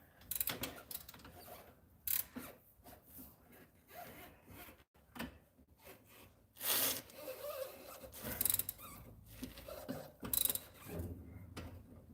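Ratchet socket wrench clicking in short bursts while fitting wheels on a car, an Astra convertible being lowered, with intermittent pawl rattles and some handling clatter between strokes.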